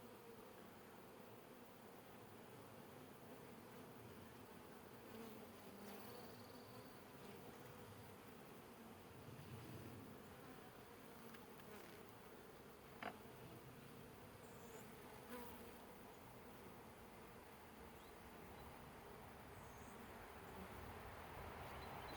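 Honey bees hum steadily at an open hive during a brood inspection, a dense, continuous buzz close to the microphone with occasional louder individual fly-bys and no talking.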